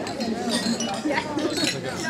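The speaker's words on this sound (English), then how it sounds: "So if you all raise your glasses with me, this is to Mark and Em, a great past and an amazing future" Wedding guests clink glasses together during a toast, a crowded run of bright chinks and rings set against a steady murmur of chatter and voices in the room.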